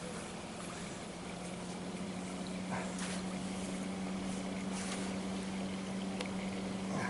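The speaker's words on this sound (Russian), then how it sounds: "Ох, лодка, блин." A motorboat passes on a river near a bridge, giving a steady, continuous engine drone with a low hum and broad wash that stays fairly even throughout.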